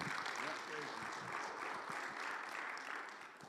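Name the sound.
audience applause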